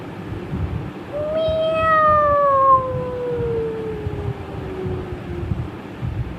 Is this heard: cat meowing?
yes